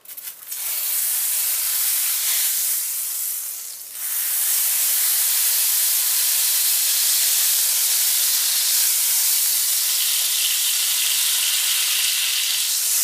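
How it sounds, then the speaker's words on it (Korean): Lemon juice poured into a pan of hot butter sauce for fish meunière, with the heat turned off, sets off a loud, steady sizzle. A brief dip midway, then the bright hissing swells again and holds. "저는 불을 끄고 레몬즙을 넣겠습니다"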